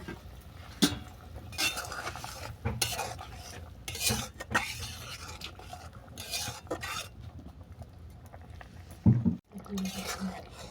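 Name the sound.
fried bottle gourd peel fritters added to simmering curry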